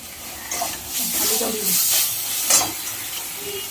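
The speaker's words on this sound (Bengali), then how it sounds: "আলুটা দিয়ে আমি একটু কষবো এখন।" Potatoes sautéing with spices in a pan for raw banana kofta curry, an uneven sizzle punctuated by stirring scrapes in short bursts.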